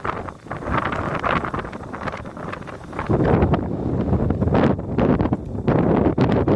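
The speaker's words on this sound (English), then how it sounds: "It's extremely windy right now." Strong wind on a mountain top, Lincoln Mountain, buffets the microphone in a continuous roaring rush, growing heavier and gustier partway through, with no voices.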